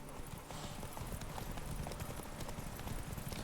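Galloping horse hooves in The Witcher 3, a fast, steady clip-clop rhythm running the whole time, loud and close over a dense background mix with no talk.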